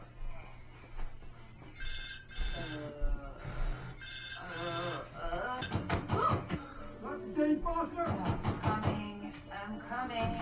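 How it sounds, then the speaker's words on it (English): A telephone rings repeatedly in a loud, evenly spaced pattern, mixed with nearby dialogue and background music and sound effects. "Phone."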